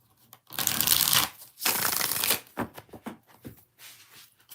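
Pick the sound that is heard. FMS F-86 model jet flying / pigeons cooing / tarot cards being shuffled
tarot cards being shuffled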